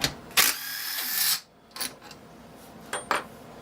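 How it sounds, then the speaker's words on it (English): A small cordless drill driver spins up for about a second, followed by a couple of brief, quicker whirs with quiet handling noise in between, during work on a Kohler KT17 engine. "This is a little drill driver,"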